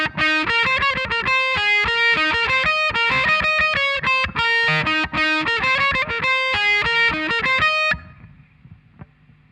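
Electric guitar playing the main riff of a song, a bright, driven melodic line of quick picked notes that rings close and loud before cutting off near the end, leaving a faint hum.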